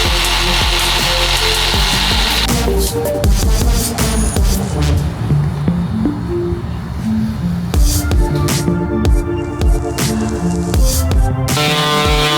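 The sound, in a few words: sawing and sanding wood pieces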